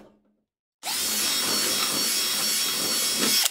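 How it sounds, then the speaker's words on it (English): Power drill boring a hole for a rotary encoder in a DIY simulator button panel, starting abruptly after a brief silence and whining steadily and loudly until the end. "We'll now drill the hole for the second encoder right next to it."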